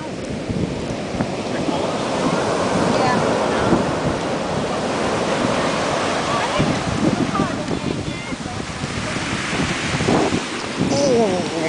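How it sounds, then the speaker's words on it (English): Pacific Ocean waves breaking on a shore, a continuous loud roar of surf with heavy wind buffeting the microphone, surging and rolling throughout with no clear gaps between breakers. "Here comes the waves."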